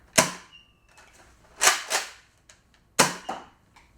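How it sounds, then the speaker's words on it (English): A Magnus dart blaster fires in three sharp, close snaps, each followed by a softer thud or rattle, spaced over a few seconds in a quiet room. "Alright, loading up the Magnus now. Let's go ahead and fire."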